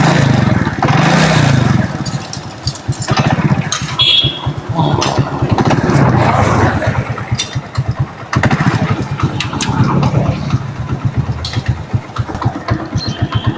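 A motorcycle engine cranks and catches, running roughly with uneven revving and sputtering for several seconds before faltering, loud and close.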